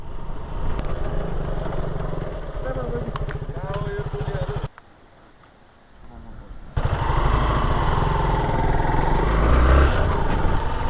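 A motorcycle chugs with a loud, throbbing engine on a muddy trail ride in Nepal, dropping to a quiet idle for about two seconds before the revs surge back up strongly, with voices talking over it.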